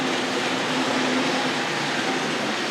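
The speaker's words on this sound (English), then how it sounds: "Diesel locomotive's about to come round, and we'll follow that through the station" A Tri-ang model railway diesel locomotive runs steadily on its track, giving a continuous near, even mechanical hum and rumble with a faint high whine, without talk.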